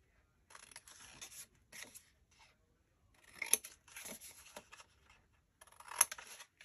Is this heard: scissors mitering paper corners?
yes